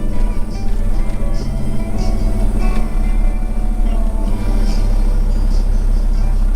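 Afternoon road traffic on Route 9 as high school and middle school let out, a steady low rumble of engines rolling past nearby, continuous and moderately loud with no talk.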